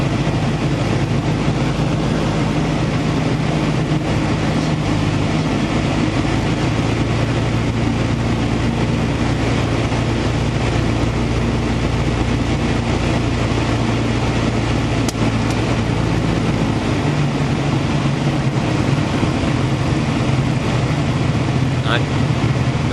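A light aircraft engine drones steadily at near-idle power, about 1,000 to 1,100 RPM with carb heat on, during a descent in a crosswind. The low, continuous hum stays level and close throughout.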